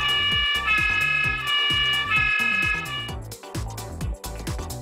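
Bruder MAN toy fire truck playing an electronic siren: a steady two-tone wail in the first three seconds over a background of chopped, rhythmic electronic tones, then a shift to a different pattern.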